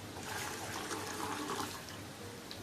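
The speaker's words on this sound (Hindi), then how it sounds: "तो इसमें डाल देते हैं मिल्क।" Milk pours into tea already at a boil in a home kitchen, a steady, soft liquid rush that holds evenly through the moment.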